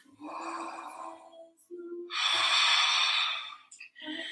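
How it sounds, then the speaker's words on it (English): Deep breaths drawn during a vinyasa yoga pose with the right hand reaching up: two long, airy, close breaths, the second louder and fuller, with short breathy sounds in between. "One more deep breath"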